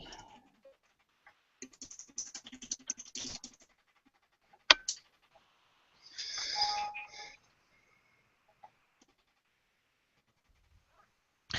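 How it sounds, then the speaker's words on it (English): Quiet computer keyboard typing in a meeting setting, with scattered bursts of key clicks and a few sharper taps separated by near-silence, close and fairly soft. "What are you typing, Stephanie?"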